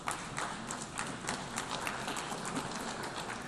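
The audience of the UN General Assembly breaks into steady applause, a dense wash of many hands clapping continuously throughout, with no voices rising above it.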